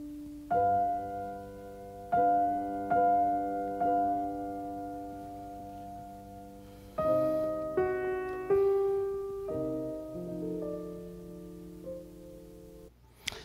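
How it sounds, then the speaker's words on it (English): Piano and cello play a slow passage from a Chopin cello sonata, the same bell-like chord struck several times by the piano and then repeated by the cello, soft and spacious with lingering resonance. "long of the exact same chord being repeated first by the piano and then by the cello."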